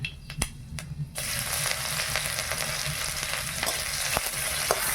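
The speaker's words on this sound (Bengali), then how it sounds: "তেলে একটু পাঁচ ফোড়ন দিয়ে দিলাম" Panch phoron spices hit hot oil with a sudden, steady sizzle that starts about a second in and holds loud and close, with a few small crackles and pops scattered through it.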